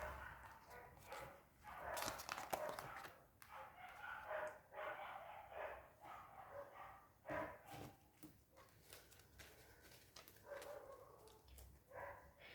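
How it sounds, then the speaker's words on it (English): Dogs in a residential neighbourhood bark repeatedly in the distance, irregular bursts of yapping over steady background noise with no talking. "My neighborhood dogs are barking."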